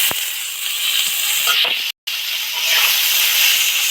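Flat beans, potato and tomato hit the hot oil of a frying pan and sizzle in a loud, steady hiss that breaks off briefly midway and then resumes, with a voice faintly heard alongside.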